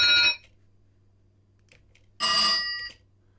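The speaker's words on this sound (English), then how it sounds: "That's an alarm clock." An alarm clock sound effect gives two short bursts of bright, trilling metallic ringing separated by about two seconds of quiet. A faint low hum sits underneath.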